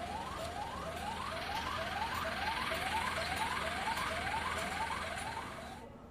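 An ambulance siren stuck in a traffic jam on a market road wails in a steady, repeating rising sweep, loud and continuous over traffic noise, fading slightly at the end.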